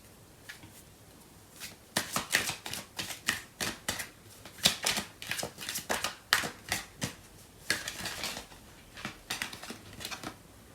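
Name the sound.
tarot cards being handled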